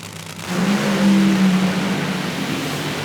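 A nitro funny car makes a semifinal drag-racing run, its engine swelling into a loud, sustained roar and then holding a broad, rough drone.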